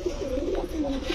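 A female pigeon coos in a soft, low, rolling burst, close and clear over a brief moment with no talk.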